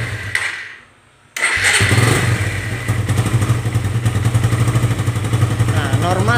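Suzuki Satria FU 150 carbureted motorcycle engine starting after fuel flooding: a brief cranking pause, then it catches and settles into a loud, close, steady idle with a rapid rattling beat.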